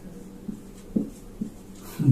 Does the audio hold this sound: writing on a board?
yes